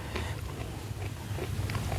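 Forest snails dipped in spicy jaew sauce are chewed up close, giving moist, squelchy bites in a quick repeating rhythm with no talking.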